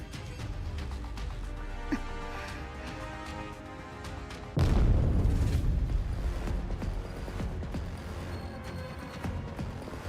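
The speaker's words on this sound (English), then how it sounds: "a loud explosion suddenly came from deep inside the warehouse" A sudden loud explosion deep inside a warehouse in the video game Girls' Frontline 2 breaks in over a low ambient backdrop, followed by a rumbling, crackling decay that lingers for several seconds.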